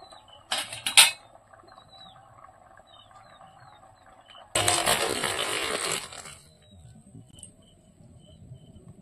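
Pot of crab sour curry lifted off a home stove: a brief metallic clank near the start, then a louder scraping, clattering burst for over a second before settling back into a quiet kitchen.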